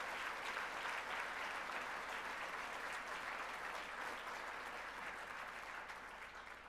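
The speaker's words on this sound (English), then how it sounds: "Please give them a round of applause." Steady audience applause at an annual charity dinner, a dense, even wash of many hands clapping that carries on without pause and fades slightly at the end.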